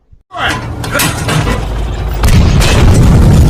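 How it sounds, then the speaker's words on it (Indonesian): A German Panzer tank explodes and burns in a sustained, heavy roar that builds and grows louder partway through, with no clear speech over it. "tank Panzer Jerman tersebut meledak dan hancur terbakar."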